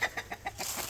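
Farm chickens cluck in a quick run of short, soft pulsing calls, a few clucks in rapid succession heard at a moderate distance.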